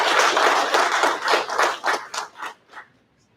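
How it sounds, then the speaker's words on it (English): Applause at a military graduation ceremony, brisk clapping from a small crowd that thins into a few scattered claps and then fades to silence. "Yeah, we can applaud it."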